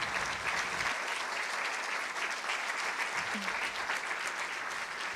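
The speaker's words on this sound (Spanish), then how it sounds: "Le va a dar un fuerte aplauso al Señor." A church congregation breaks into loud, sustained applause, a dense wash of clapping that holds steady from start to finish with no talking over it.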